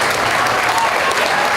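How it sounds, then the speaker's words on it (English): Sustained applause from a crowd at a county fair feeder calf show award ceremony, dense steady clapping at a constant level throughout. "give him a big round of applause"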